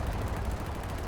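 Rapid gunfire from a Halo Infinite firefight, a dense, steady rattle of shots with heavy low-end thumps filling the whole second without a break.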